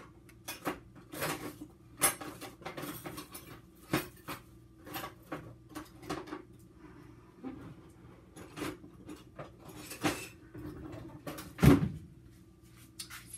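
In a home kitchen, a knife is fetched from a drawer with a series of close metallic clinks and rattles of cutlery and dishes, irregular and moderately quiet, peaking in one sharper clatter near the end.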